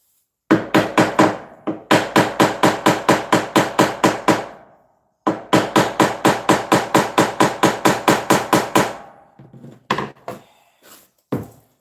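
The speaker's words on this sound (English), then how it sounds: "sound warning, hammer" Rapid, evenly spaced hammer blows ring out in two long bursts, a pause between them, then a few scattered, softer knocks at the end.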